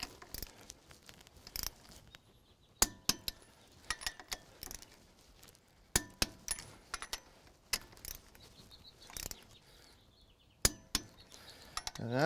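Wheel spacer nuts on a Jeep Wrangler JKU are torqued with a hand ratchet, giving close, quiet clicking and metallic clinks in short bursts with pauses between, no talking.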